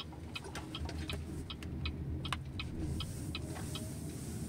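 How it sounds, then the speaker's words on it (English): Turn indicator of a BYD Dolphin Standard Range car ticking at a steady rhythm during a night U-turn, crisp clicks over a low cabin and road hum. "Okay, so now I'm going to make a U-turn here."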